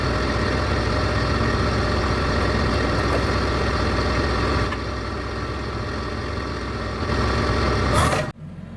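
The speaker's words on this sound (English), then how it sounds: "This is a tractor, loader, and backhoe combination." A new TYM 474 tractor loader backhoe of 48 horsepower runs with a steady diesel idle, a constant low rumble and hum that holds near and even, dips slightly midway, then cuts off abruptly near the end.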